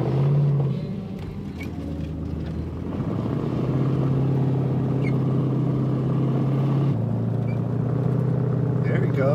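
A Suburban's engine rumbles steadily and revs as it drives off a slope, loud and continuous, with a brief dip early on and people talking over it.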